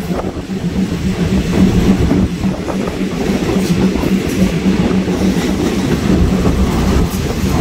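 A train on Thailand's eastern railway line rumbles steadily past at close range, its wheels clattering in a continuous loud roll with faint metallic squeals, and no voices over it.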